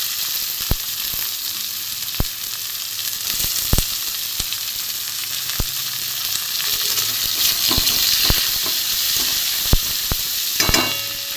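Onions fry in a pan with garlic in hot oil, giving a continuous close sizzle punctuated by repeated sharp scrapes and taps of a stirring spoon against the metal.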